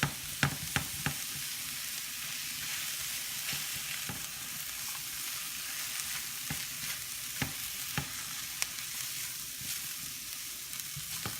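Mushrooms fry and soften in a pan with a steady, close sizzle, broken by a few sharp clicks and pops from stirring, with no voices.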